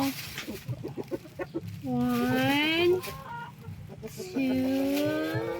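Hens clucking and squawking close by while eggs are gathered from nests, with drawn-out rising cackles between shorter clucks, under a man's counting speech.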